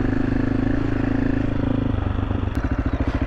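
A motorcycle engine rumbles steadily up close while riding in Morocco, its throbbing pulses growing more distinct toward the end as the bike rides along.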